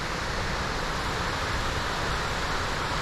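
A large waterfall near Loch Eck in Scotland roars as a steady, dense, broadband rush, loud and unbroken throughout, with no voices over it.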